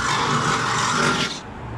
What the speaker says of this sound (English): He's drilling out the mounting holes now so we can get the box mounted.